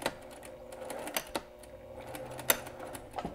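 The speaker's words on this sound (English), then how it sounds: "take it over to the sewing machine and just stitch back and forth right at that seam" A sewing machine stitches back and forth across the seam of a needle-book lining. It gives a steady, quiet mechanical whir broken by sharp clicks and clacks as the stitching changes direction, close by with no voices.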